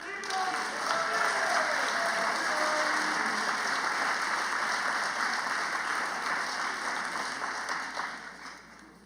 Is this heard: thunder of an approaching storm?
no